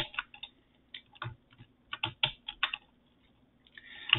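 Bursts of computer keyboard typing as Emacs editing commands are entered, clustered keystrokes with short pauses between them, close and fairly quiet, no talking.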